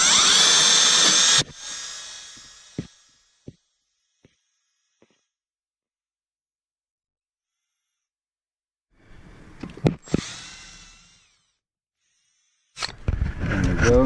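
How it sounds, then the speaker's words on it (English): A power drill bores into the ignition roll pin of a 2004 Honda CR-V, starting with a loud whine that cuts off, then quieter intermittent bursts, silence, and renewed close, loud drilling toward the end. "So I'm gonna drill into it right there."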